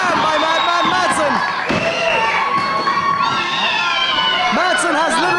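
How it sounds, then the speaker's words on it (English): A wrestling crowd at an Irish Whip Wrestling show cheers and shouts wildly, a loud, dense roar of many voices with rising yells and whoops that never lets up. "This crowd going absolutely crazy."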